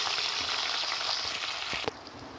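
Chopped tomato and onion dropped into hot oil in a wok give a loud, steady close-up sizzle, ending with a brief clink of utensil.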